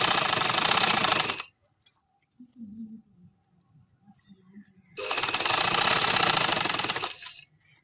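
An electric sewing machine stitches a flower-design pillow cover in two fast, loud, whirring bursts, the first about a second and a half and the second about two seconds, with quiet fabric handling between them.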